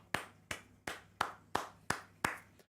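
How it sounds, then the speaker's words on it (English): Seven sharp, evenly spaced hand claps ring out alone at a watchalong of a football match, each crisp and close, followed by silence. "Round of applause!"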